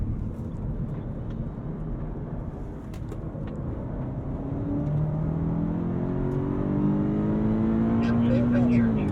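A 2022 BMW M5 CS driven hard on a race track, heard from inside the car as a steady engine roar that climbs in pitch while accelerating, with constant road and wind noise.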